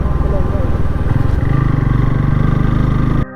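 Motorcycle cruising on a highway during a long-distance ride from Pune to Akkalkot, its engine droning steadily and loud with a rapid pulsing rhythm, wind noise over it, cutting off abruptly at the end.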